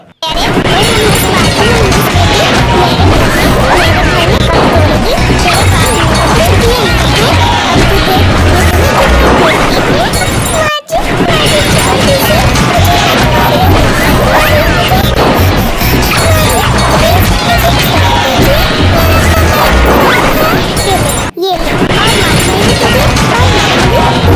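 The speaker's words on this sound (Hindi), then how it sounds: "गोरी कौवी अपनी बहू को पीट रही थी" Loud, continuous cartoon-style smacking and crashing effects with whacks, thuds and busy background noise, cut by two brief silent gaps.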